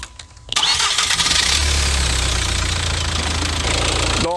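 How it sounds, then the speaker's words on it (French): A car engine cranks and catches, then runs steadily and loudly close by during a 12-volt battery load test with a Topdon BT200 battery, charging-circuit and alternator tester. "il dit démarrer le moteur"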